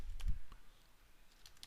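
Computer keyboard typing, a short burst of quick close key clicks followed by a pause and a few more light taps, with no talking.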